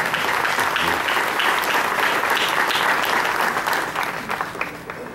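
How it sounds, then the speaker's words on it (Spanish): A crowd at a civic ceremony in Papantla applauding warmly, a steady, dense wash of clapping that holds for several seconds and then begins to thin and fade near the end. "Presidenta del sistema DIF municipal, maestra Miriam García Gasman, brindémosle calurosos aplausos"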